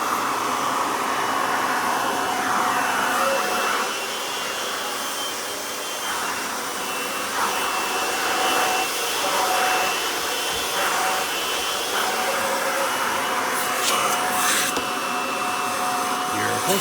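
A Kirby Ultimate G3 upright vacuum cleaner runs with a continuous loud whining roar, its pitch shifting slightly as it is moved around, while a voice can be heard over it.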